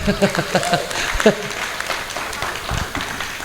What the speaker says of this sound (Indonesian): Tepuk tangan untuk beliau dong